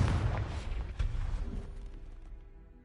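A Confringo explosion spell from Hogwarts Legacy bursts loudly, with a sharp blast near the start and another around the one-second mark before a booming tail fades into silence.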